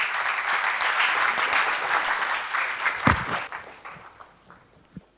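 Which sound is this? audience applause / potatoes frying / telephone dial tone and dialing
audience applause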